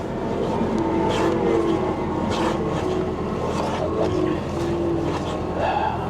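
A 2017 Lincoln MKZ with light damage idles steadily just after starting, a smooth even hum close by with faint clicks and a voice speaking briefly over it.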